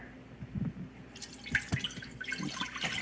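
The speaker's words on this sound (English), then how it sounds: "then you're gonna pour in 2 cups of water." Water splashes and trickles into a pot, with irregular drips and pouring sounds close by, no talking.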